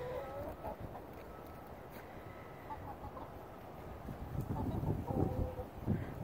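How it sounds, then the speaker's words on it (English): Backyard chickens cluck in their coop, a scattered run of soft clucks and murmurs against light wind, growing a little louder toward the end. "That's our chickens."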